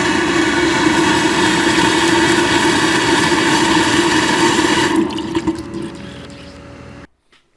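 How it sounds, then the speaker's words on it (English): A shop vac set to blow pushes water out through the lines of a saltwater, D.E.-filtered vinyl pool during winterizing, making a steady loud roaring rush that drops off and sputters before cutting out. "Put your shop vac into blow mode"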